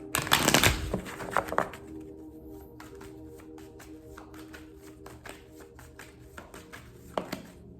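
Romance Angels oracle cards being shuffled by hand: a dense, crisp riffling burst up close at the start, then sparse light taps and card flicks over a quiet room.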